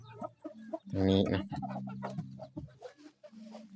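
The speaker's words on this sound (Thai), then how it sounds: "ไก่แม่ลูกอ่อนนี่เพราะว่าไก่แม่ลูกอ่อนมันไปไกล" A mother hen with young chicks clucks at a rural coop, soft and intermittent beneath someone talking up close for most of the stretch.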